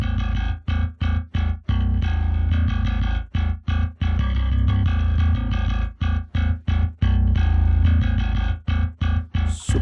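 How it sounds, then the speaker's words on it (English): Heavily distorted, saturated bass-heavy music processed through a saturation plugin, in choppy bursts separated by short gaps, loud and gritty throughout with no voices. "let's turn on the saturation and add some distortion"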